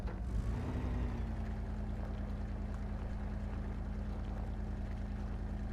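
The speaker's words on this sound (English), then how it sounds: "All the wheels are spinning, but it's going nowhere." A Toyota Celica spins all its wheels without moving in the off-road video game Spin Tires, its engine giving a steady, moderate droning hum with no talk.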